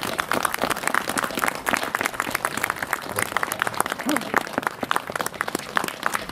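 A crowd at the opening ceremony of a memorial hall applauds with dense, steady clapping that holds strong for several seconds, with voices faintly mixed in.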